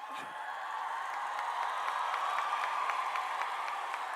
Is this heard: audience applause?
yes